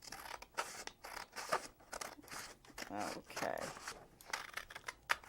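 Scissors snip through a paper invitation in quick, uneven cuts with rustling paper. The sound is close and moderately loud, and a voice speaks briefly.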